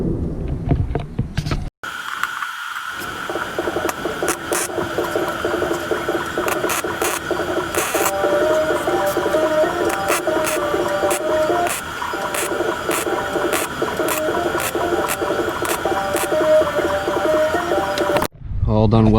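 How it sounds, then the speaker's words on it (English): Close MIG-style welding on a Ford Ranger valve cover for a 5.0 swap, a steady crackling buzz running almost without pause for about fifteen seconds after a brief start, cutting off abruptly at the end. "time to put some welds on it"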